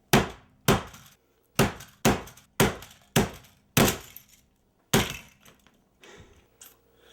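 A hammer smashing wood, about nine sharp cracking blows in an uneven rhythm, each with a splintering decay, loud and close with silence between strikes and no talk.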